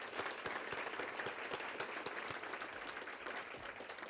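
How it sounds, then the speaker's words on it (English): Audience applause for Mackenzie Investments at a fundraising conference: a continuous wash of many hands clapping, moderately distant and soft, steady across the whole stretch with no voices rising above it. "So if we could just have a round of applause for Mackenzie Investments."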